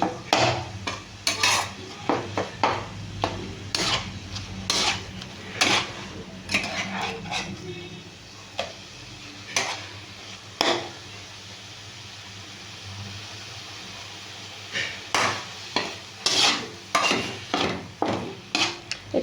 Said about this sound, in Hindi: आमे गुड़ पकेबा